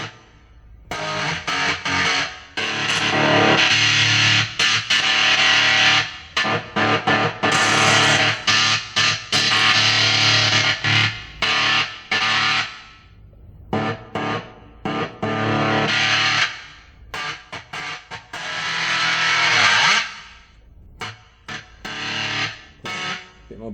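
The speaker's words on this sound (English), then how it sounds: "Let's add an amp simulation to that." A MUZA GP300 multi-effects pedal produces loud, percussive distorted guitar through an amp simulation, heavy saturated chugs broken by short gaps and choppy stabs, with no talking.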